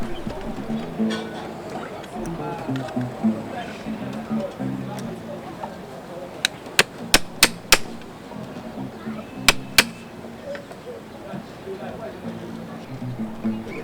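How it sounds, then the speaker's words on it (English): Holes being punched through a mask face at the nose and mouth: a quick run of about four sharp, crisp knocks, then two more a moment later, heard under steady talking. "Holes are punched in the nose and mouth. Corresponding holes are punched in the face."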